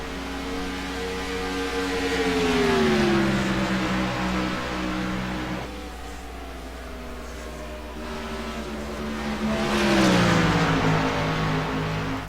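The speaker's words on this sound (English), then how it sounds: "you'll hear a lot of guys downshift in the turn 1" Race cars braking into turn 1 at Pocono, engines droning and dropping in pitch as they downshift, two passes swelling close and fading, with no talk.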